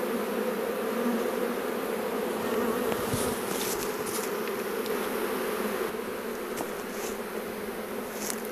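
Honeybees crawling over a nucleus hive in an apiary give off a steady, dense buzzing hum that fills the whole stretch, close and fairly loud, with occasional individual bees zipping nearer.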